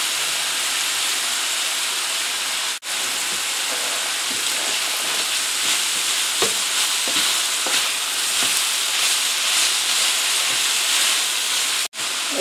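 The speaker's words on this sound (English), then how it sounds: "let's add some of these mushrooms and also the scallions, so they can cook as well" Sausage, mushrooms and scallions fry in a pan with a steady, close sizzle and hiss, with faint stirring clinks and brief dips where the sound drops out.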